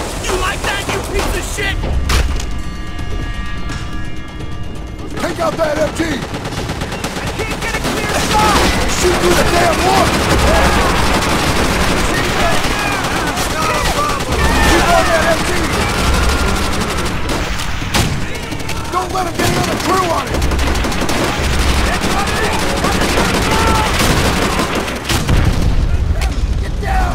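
Heavy, continuous machine gun bursts and rifle fire in Call of Duty: World at War, loud and close, with booming explosions and shouted voices mixed in across a dense battle din.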